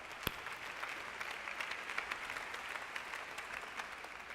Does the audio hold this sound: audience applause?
yes